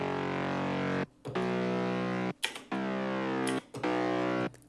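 Harmor bass synth processed with Camel Crusher distortion and EQ, hitting four punchy, gritty stabs in a steady rhythm, each separated by a brief gap with a small click or noise burst.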